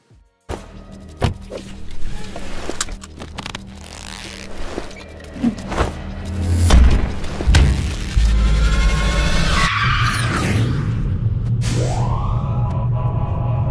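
Tesla Model 3 Performance pulling away under hard acceleration, a rising electric whine and tire and road noise building into a sustained rush, with a few thumps early on.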